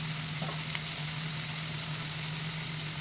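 Chopped onions fry in hot oil with mustard and cumin seeds for a vegetable liver-style fry, giving a steady, close sizzle with a faint low hum running underneath and a few small pops.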